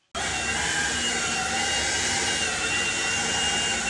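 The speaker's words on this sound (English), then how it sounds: "you're going to take a blower and blow it all off" A blower clearing debris off a pool deck after new mastic is laid starts abruptly and runs as a loud, steady, close roar with a high whine. It holds constant for nearly four seconds, then cuts off sharply.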